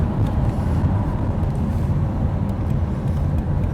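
A Jaguar XJS-HE with a V12 engine drives along smoothly, a steady, dense cabin rumble of engine and road noise with no talk over it.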